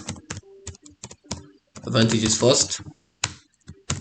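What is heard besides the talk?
typing on a computer keyboard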